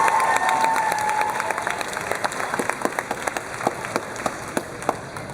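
A convention crowd applauds and cheers after answers at a Sonic Boom 2013 Q&A session, a dense wash of many hands clapping with scattered sharp claps standing out and a brief whoop near the start, loud and steady without talking.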